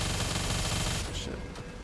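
Rapid, dense automatic gunfire from a full magazine emptied in The First Descendant video game, sustained for about a second before breaking into a few scattered shots and tails.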